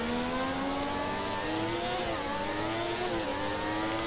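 A Formula 1 car engine in the racing video game F1 2017 screams continuously at high revs, pitch rising through gears with brief dips between shifts, loud and close with no talk.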